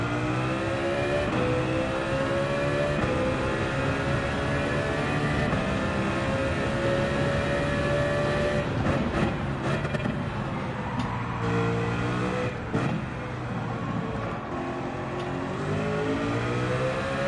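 A race car engine in Gran Turismo 7 revs and accelerates continuously in a loud, droning whine at the Sardegna circuit. The pitch climbs through the gears, with brief dips at gear changes partway through, and no voices are heard.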